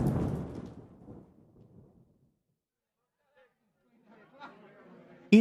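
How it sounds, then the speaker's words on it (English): A deep rumble of thunder rolls and fades away into near silence, followed by faint scattered sounds and a sudden sharp knock at the end. "Tonight, there is a terrible storm,"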